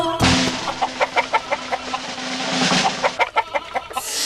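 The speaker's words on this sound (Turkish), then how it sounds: "Neymiş bu gıt gıt gıdaklayan?" Rapid, rhythmic clucking of a chicken repeats over a backing of music, the short bursts coming in quick succession.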